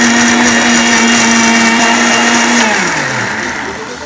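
A kitchen mixer grinder runs loud and steady, blending spices with water into a smooth paste for masala gobi, with a high whirring motor whine that drops in pitch as it winds down at the end.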